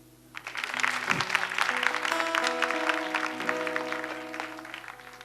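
An audience applauds in Burkina Faso, clapping that swells quickly and stays steady and dense under a sustained musical tone.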